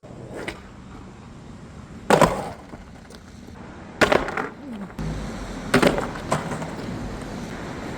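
Skateboard big spin trick on pavement: wheels roll steadily, then sharp board snaps and clacking landing impacts ring out at close range, with rolling continuing between hits.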